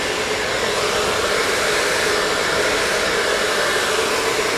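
A blow dryer runs steadily and loudly while drying hair with a round brush, a continuous close-up airy roar with no pauses and no voices.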